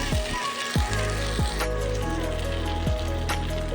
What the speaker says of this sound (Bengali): দিয়ে এটাকে ভালো করে আবারও ভাজতে থাকবো ততক্ষণ না আলুটা না সিদ্ধ হয় ততক্ষণ